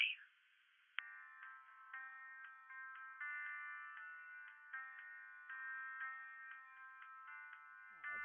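Telephone ringing tone while calling a helpline, a steady repeating electronic ring in regular bursts, close and clear, with nobody speaking.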